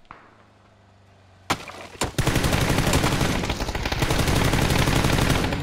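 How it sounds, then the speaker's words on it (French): Battle royale video game gunfire: after a quiet stretch, sharp shots crack out, then a sustained rapid automatic burst rattles loudly and continuously, dense and close. "Est-ce que t'entends tirer là?"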